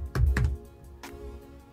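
Several quick keystrokes on a computer keyboard, two sharp taps close together and a softer one after, close and alone without speech.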